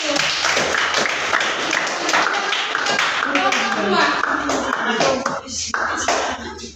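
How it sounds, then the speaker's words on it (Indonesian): A classroom of students claps for a presenting group, a dense, sustained round of hand claps with voices talking and calling out over it throughout, fading slightly near the end. "tepuk tangan dulu untuk kelompok 1"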